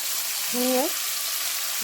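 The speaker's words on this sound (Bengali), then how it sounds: "কড়াই একটু তেল নিয়ে নিলাম, তাতে অল্প সামান্য খানিকটা হিং দিয়ে দিলাম" A small pinch of asafoetida (hing) fries in oil in a wok, giving a soft, steady sizzling hiss with a brief squeaky tone partway through.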